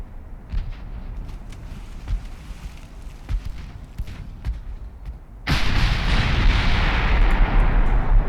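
Naval guns fire from warship turrets in the Ultimate Admiral Dreadnoughts game, with dull repeated booms over a rumbling battle bed that swells into a louder, denser roar halfway through.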